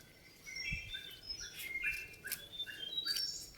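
Baby birds kept as house guests chirp in quick, high, thin calls that repeat irregularly, fairly faint against a soft background hiss, with no talking.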